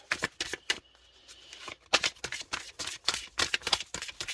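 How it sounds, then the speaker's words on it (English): Tarot cards being shuffled in quick riffling bursts, several rapid flurries separated by short pauses, close and crisp. "I'm just going to give a shuffle here"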